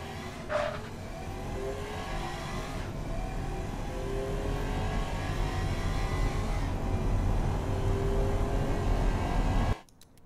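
A V12 twin-turbo rear-wheel-drive 2008 Athena SL8 saloon in the Automation game accelerates hard, its engine droning loud and steady with rising pitch sweeps through the gears before cutting off abruptly near the end.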